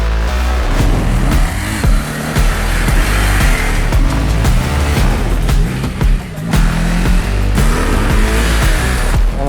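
BMW GS adventure motorcycle revving hard while sliding in circles on a dirt field, loud close engine roars rising and falling with repeated throttle blips and tyre scrabble.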